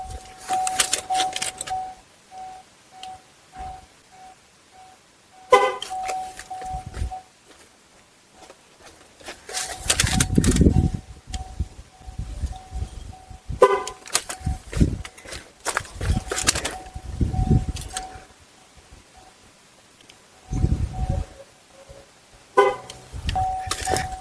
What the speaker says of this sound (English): there we just heard those final 2 honks, so that means the process is complete.